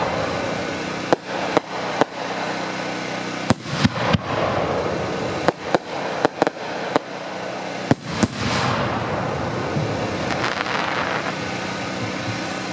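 Pyrotechnic shells with rising, breaking flags fired in a timed sequence at a fireworks demonstration, giving sharp, loud launch thumps and bursts at irregular intervals over a steady crackling outdoor background.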